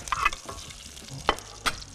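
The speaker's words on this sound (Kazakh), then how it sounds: "Ал енді қатты қызып тұрған майға кәді, баклажан, қызанақ және саңырауқұлақты бөлек-бөлек қуырып" Zucchini, eggplant, tomato and mushroom pieces frying in hot oil, a low crackling sizzle punctuated by a few sharp scrapes and clacks of a spatula in the pan.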